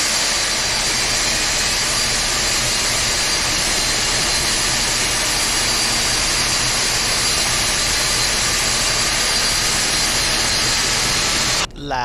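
Boeing 747-200 jet engine spooling up in a flight simulator game, a steady loud broadband roar with a high whine that holds level throughout before cutting off abruptly near the end.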